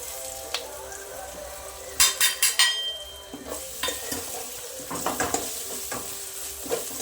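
A spoon stirs tomato thokku with chili powder and garam masala in a sizzling pan, making loud scraping and clattering bursts in quick runs over a constant frying hiss.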